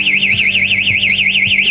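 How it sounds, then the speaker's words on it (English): A homemade tripwire alarm, a thumbtack contact closed when a plastic piece pulls free, sounds a loud, steady warbling electronic siren that rises and falls rapidly and continuously, close and alone. "When someone trips the line, the plastic piece will pull out, creating a current through the thumbtack, triggering the alarm."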